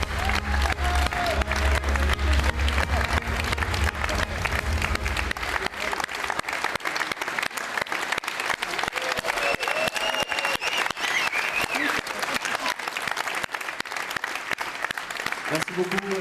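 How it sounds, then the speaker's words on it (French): A crowd at the Vendée Globe sailing race prize ceremony applauds the winner as he receives the trophy, steady loud clapping throughout with a low rumble early on. "Applaudissements encore un petit peu, s'il vous plaît, pour le vainqueur."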